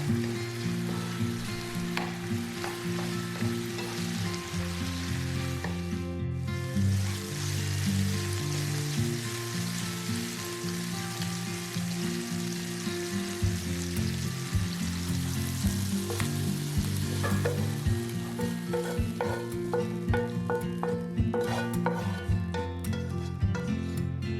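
Homemade dog food, cooked meat in a pan, sizzles and fries continuously with a loud, close crackle while a utensil occasionally stirs and scrapes through it.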